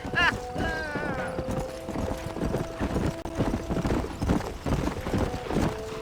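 Horse hooves clip-clop steadily in the Western video game Red Dead Redemption, a brisk rhythmic clatter under game music, with a short whinny and people talking over it.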